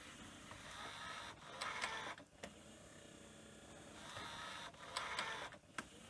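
The tape transport of a Panasonic NV730 VHS recorder runs quietly, a faint whirring hum broken by a few louder mechanical clicks and motor surges at intervals, close and without voices.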